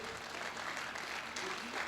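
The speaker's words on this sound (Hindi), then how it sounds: "एक बार जरा भाई सजल जैन के लिए जोरदार तालियां बजाइए।" Audience applause for poet Sajal Jain at a Hindi kavi sammelan, a steady wash of many hands clapping throughout with crowd murmur mixed in.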